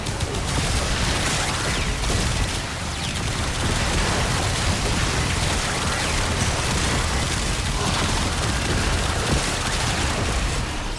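Secondary-weapon gunfire in a shooter video game, a dense, loud, continuous barrage of rapid shots and blasts that fills the whole stretch without pause.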